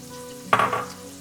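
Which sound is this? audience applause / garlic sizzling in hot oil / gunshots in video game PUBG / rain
garlic sizzling in hot oil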